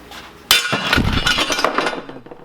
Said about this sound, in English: So maybe a little hammering might help?